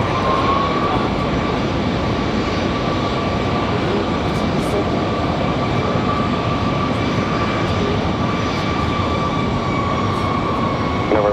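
An Embraer E190 jet at the airport gives a loud, steady engine roar with a whining tone held throughout, heard from nearby with faint voices mixed in.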